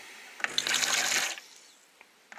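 A Saeco Vienna coffee machine in test mode pushes water through with a short hissing gush lasting about a second, close and fairly loud, followed by faint drips and quiet.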